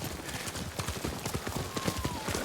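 Horse hooves gallop across rough terrain in the video game Ghost of Tsushima, a fast, steady clip-clop rhythm that sounds close and continuous over a low ambient bed.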